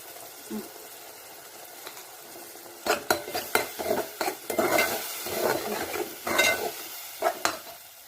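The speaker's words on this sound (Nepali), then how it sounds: "यो मसला अलिक मजाले भुट्यो, सानो आँचमा पकायो हो।" Cumin and coriander powder fry in a pan over low heat, giving bursts of crackling sizzle and scraping stirs against the metal, busier in the second half, with a few quiet gaps and no talking.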